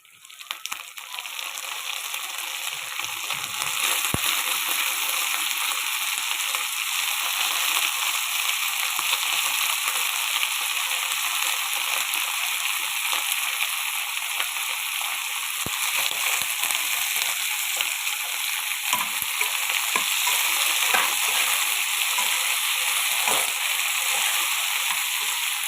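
Brinjal (vankaya) pieces frying in oil with fenugreek leaves for a vankaya fry, a dense, continuous sizzle that swells after the first few seconds and holds steady and close with no talking.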